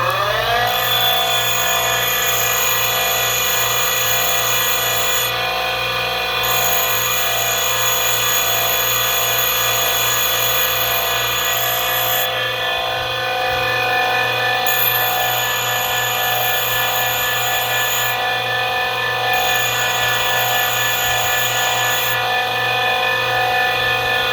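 A cold chisel meant for concrete being sharpened: a loud, steady, high-pitched whine with a rich ringing tone runs unbroken the whole time, close and without talk.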